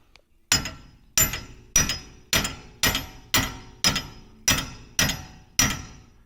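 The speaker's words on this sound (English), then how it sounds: "Looks like I'm gonna need to torque it into it with a little hammer." A small hammer taps a metal front-end part on a Mercedes 240D under repair, ten sharp, evenly spaced metallic strikes about half a second apart, each ringing briefly, close and alone.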